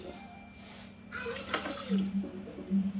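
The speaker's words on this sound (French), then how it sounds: "Ensuite, je vais mettre un gobelet d'eau." Water poured into a small cup, heard as a close gurgling, splashing stream that swells in the second half, with a low steady hum in the background and no speech.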